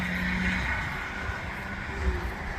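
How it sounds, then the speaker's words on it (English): A car with a rough-running engine passes on the street in Canonsburg, Pennsylvania, a steady, moderately loud droning rumble with a faint whining tone and no talking. "that car sounds like garbage"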